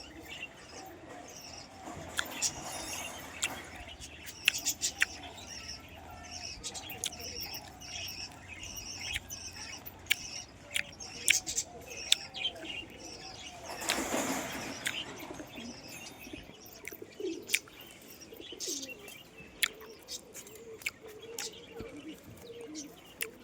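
Pigeons let loose, their wings flapping in bursts with soft cooing and chirps scattered around, fairly faint and intermittent.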